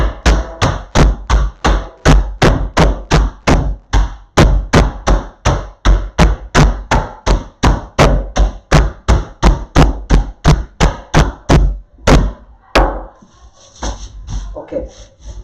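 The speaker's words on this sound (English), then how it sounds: "The ice need to be crushed, then they are good." Crushing ice for a gin mojito: a long run of sharp, loud, evenly spaced thuds and crunches, roughly two per second, close by, slowing and thinning out near the end.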